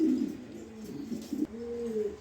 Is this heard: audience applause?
no